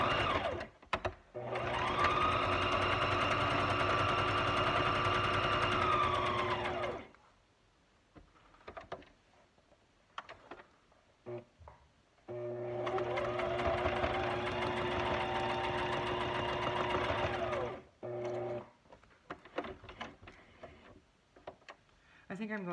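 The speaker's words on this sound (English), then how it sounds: "I think I'm going to try a zigzag stitch on this side." A sewing machine runs a zigzag stitch in two long, steady bursts of rapid mechanical rattling, each several seconds long and separated by quiet pauses with faint handling noises.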